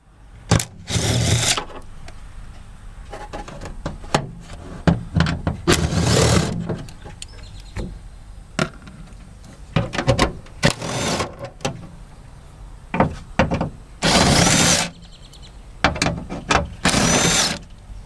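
Bolts coming off the tail light panel of a 2018-2022 Honda Accord: bursts of whirring power-tool spinning close by, separated by clattering metallic handling and short pauses.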